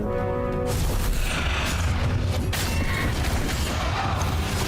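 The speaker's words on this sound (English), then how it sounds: "Who doesn't love being shot at by cannons?" Cannons in the video game Stories: The Path of Destinies fire repeatedly as heavy, rumbling booms under a dense, continuous clatter of combat noise, loud and close throughout.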